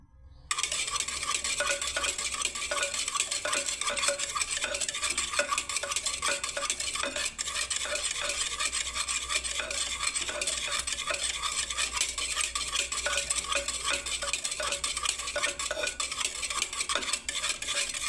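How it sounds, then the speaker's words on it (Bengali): A spoon scrapes and clinks steadily around a bowl while yogurt is stirred for a mango shake, a close, continuous rhythmic churning that runs for a long stretch without speech. "ব্যাস আমি আরও কিছুটা ঘেটে দিচ্ছি বন্ধুরা দইটাকে।"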